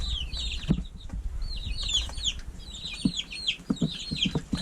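Several chickens call repeatedly in high, chattering bursts while soft low thumps and clucks sound beneath, a busy farm poultry-yard scene with no talking.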